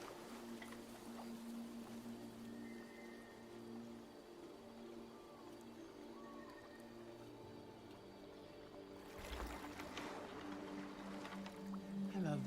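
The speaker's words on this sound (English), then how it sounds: "Get on paddling." Oars paddle a small boat in the Detroit: Become Human video game, a faint, steady watery churn under calm ambience with soft tonal hums, swelling into heavier sloshing near the end.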